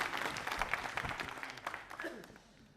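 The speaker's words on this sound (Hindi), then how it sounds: "तालियां जोरों से बजाओ यार," A quiz show audience gives a quick round of applause, faint and somewhat distant clapping from a crowd with uneven bursts, tapering off within a few seconds.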